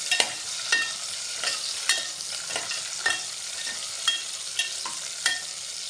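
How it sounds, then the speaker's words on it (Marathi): Tomatoes cook in a pan over a steady sizzle while a spoon stirs them in regular scraping strokes, roughly one per second, loud and near with no talk. "तर आपण टॅमॅटो टाकून घेऊया तर धवळत राहायचं"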